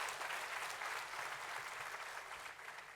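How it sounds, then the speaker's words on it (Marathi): Audience applause welcoming a former Supreme Court judge at a public lecture, a steady wash of many hands clapping at moderate distance that holds for the whole stretch and tapers slightly near the end. "त्यांचं सर्वांनी टाळ्या वाजवून स्वागत करायचं"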